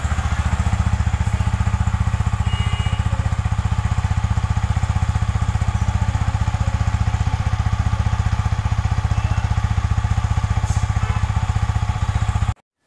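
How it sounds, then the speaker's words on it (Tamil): A Yamaha MT-15 motorcycle idles with a steady, even exhaust putter, a continuous low rapid thumping that holds constant for the whole stretch before cutting off abruptly at the end. "இப்போ வந்து எம்டியோட எக்ஸாஸ்ட் நோட் கேட்போம் எப்படி இருக்குன்னு"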